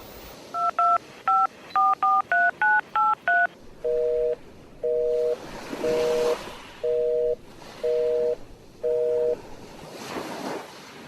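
A telephone being dialed for a call: a quick burst of about ten keypad tones, then six evenly spaced longer tones like a ringback, over a faint whooshing background with no voices.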